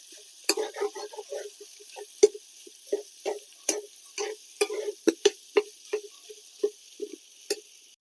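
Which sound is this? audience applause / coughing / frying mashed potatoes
frying mashed potatoes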